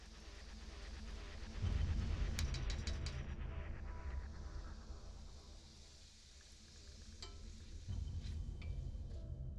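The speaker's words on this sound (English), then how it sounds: "Give it a quick stir." Spicy squid ink risotto with calamari being stirred in a pan: a steady scraping, stirring texture over a low sizzle, with a few light clinks and no voices.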